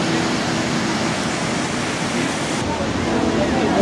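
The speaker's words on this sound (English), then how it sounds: "Look at this waterfall, guys." Johnston Canyon waterfall roaring in a steady, loud, unbroken rush of white water, filling the whole stretch with dense noise close at hand.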